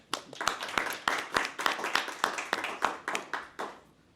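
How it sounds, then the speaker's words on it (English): An audience at a leadership academy event at Simmons College of Kentucky claps for a moderator, a steady run of sharp, closely spaced hand claps from a modest crowd lasting about four seconds, with no talking over it. "Can we clap for him?"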